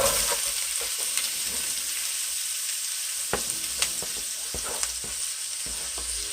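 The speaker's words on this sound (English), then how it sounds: "Get them a light saute for about 5 minutes or so." Vegetables sautéing in a pan for grouper and rice, a steady broadband sizzle with occasional sharp pops and stirring clicks throughout, no voices.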